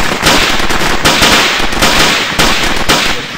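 Rapid, loud gunfire from the Arma video game, dense cracking bursts that follow one another almost continuously, with brief gaps between volleys.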